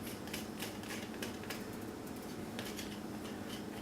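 A palette knife works wet white, red and yellow paint together, making a run of quiet, repeated clicking and scraping taps against a steady background hiss, no voices.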